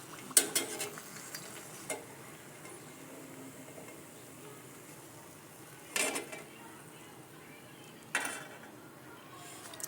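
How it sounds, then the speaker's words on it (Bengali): Aloo puri fries in hot oil with a quiet, continuous sizzle, broken by a few sharp metallic clatters of a utensil against the pan. "আর এরকম করে আমি প্রত্যেকটা আলু পুরি ভেজে নেব।"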